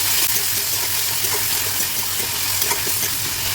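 Tomatoes fry in a pan for an Assamese mustard fish curry, giving a steady, close sizzle with faint stirring scrapes, unbroken for several seconds and with no voices.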